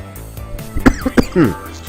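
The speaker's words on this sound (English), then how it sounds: "There's still a little bit of a residual cough." A few sharp coughs in close succession, followed by a short throat-clearing sound, close to the microphone.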